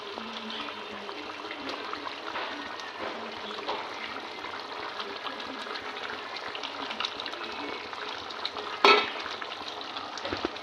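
Pieces of fried rohu fish go into a hot pan for kalia, where oil sizzles steadily and a spatula stirs with soft scrapes, ending in one sharp metallic clack near the end, close by and without speech.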